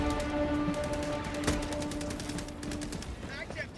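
Rapid sustained machine gun fire in Helldivers 2, dense repeating bursts loud and close through most of the moment, with game sounds layered around it.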